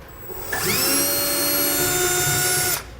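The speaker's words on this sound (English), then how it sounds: "We're going to drill a small pilot hole all the way through the bed." A power drill whines loudly at high speed for a couple of seconds, boring a pilot hole through the bed of a 2017 Ford F-350 Super Duty pickup, steady and close, then stops abruptly.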